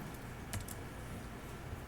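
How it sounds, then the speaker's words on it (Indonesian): Steady, soft keyboard typing at a computer while coding PHP, continuous quiet clicking with a faint background hiss and no talk. "Di sini saya kasih mengetik manual."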